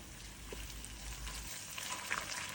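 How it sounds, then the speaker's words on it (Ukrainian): Steady crackling sizzle of carrots frying in hot oil, continuous and close, with occasional faint pops and no talking. "Наливаємо олію. Висипаємо морку та смажимо її."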